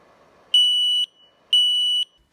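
A MADMAN EMS3 gauge sounds its coolant temperature alarm while the coolant sensor is dipped in hot water: two loud, steady electronic beeps, each about half a second long and evenly spaced, with no voices.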